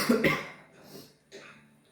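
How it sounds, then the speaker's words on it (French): Two or three harsh coughs close up, a sharp burst at the start followed by weaker hacks, with no talking. "c'est des chips qui me fait tousser"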